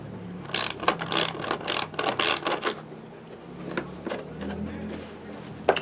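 A hand tool ratchets screws tight on rear Bushwacker fender flares of a 1999-2004 Jeep Grand Cherokee, bursts of quick metallic clicking in uneven runs with short pauses and faint handling noise between.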